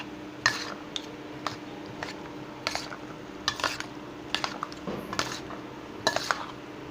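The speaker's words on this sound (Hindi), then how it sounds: "चमचों की मदद से मैं इसको ऐसे अच्छी तरह मिक्स कर लेता हूँ" Spoons clink and scrape in a bowl as mayonnaise and milk cream are mixed into a salad, with irregular soft taps and wet squishing at close range, no voices.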